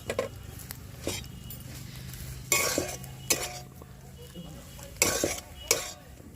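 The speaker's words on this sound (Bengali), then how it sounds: "এই ধনে পাতাটাকে মিশিয়ে নেবো খুব ভালোভাবে" A spatula scrapes and taps in a pan as chopped coriander leaves are stirred into a potato filling for aloo chop, coming as several loud irregular scraping strokes with a faint sizzle beneath.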